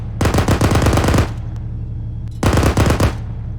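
Machine gun fire in a military video game, two long sustained bursts of rapid shots, the first about a second long, the second shorter after a pause, loud and close.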